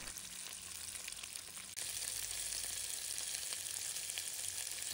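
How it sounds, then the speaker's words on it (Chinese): Sand whiting pieces pan-frying over medium-high heat, a dense continuous sizzle heard close up, jumping a little louder partway through and holding steady, with no voices. "所以一定要等它定型后再翻面，以中大火煎制3分钟左右"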